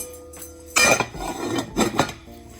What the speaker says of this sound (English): Let me put my lid back on.